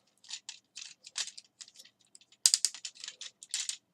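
Ratcheting knee and elbow joints of a G1 and Generations Sandstorm Transformers action figure clicking, a series of short dry plastic clicks in irregular bursts, close and fairly quiet with no talk.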